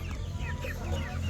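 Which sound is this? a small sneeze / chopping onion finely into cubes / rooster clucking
rooster clucking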